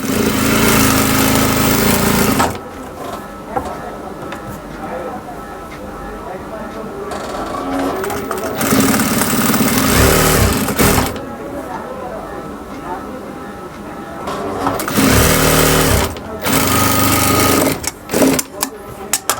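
Domestic sewing machine stitching a puffed sleeve, running in loud steady bursts with pauses between, while someone talks over it throughout.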